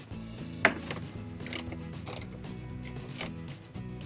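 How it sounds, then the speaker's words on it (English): A wrench ratchets while loosening the 10 mm bolts that hold the carburetor on a 9.9 HP Mercury outboard, giving a run of close mechanical clicks with one sharper snap early on, over a steady humming background. "let's go ahead and remove my bolts, which are going to allow me to take this whole carburetor out of here"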